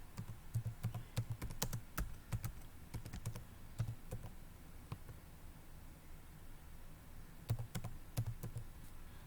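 Computer keyboard typing a search query, quiet clicky keystrokes in short irregular bursts with pauses, close and faint, no talking.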